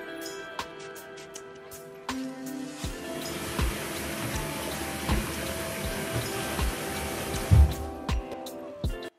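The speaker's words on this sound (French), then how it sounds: "je vais laisser tremper dans des cristaux de soude et de l'eau." Tap water runs steadily into a sink to soak a greasy range hood filter with soda crystals, a continuous close splashing flow with a few knocks and clatters.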